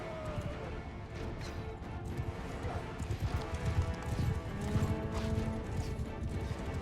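Horses in the game Mount & Blade II: Bannerlord clatter with rhythmic hoofbeats and some thuds, moderately loud amid battle noise, with a brief whinny-like tone partway through.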